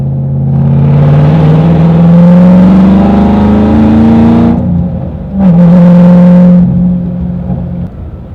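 The exhaust of a 2010 Shelby GT500 Mustang rises in a loud, close rev, drops off briefly, then revs again before settling back, with no talk over it.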